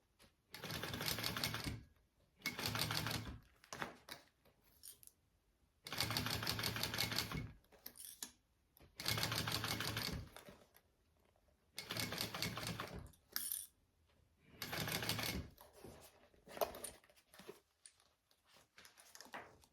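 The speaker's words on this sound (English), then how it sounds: "we just sew it on at an 1/8 of an inch seam allowance" A sewing machine stitches a bag seam at an eighth-inch allowance, running in repeated bursts of rapid mechanical clatter lasting one to two seconds each, separated by short pauses, close and fairly quiet.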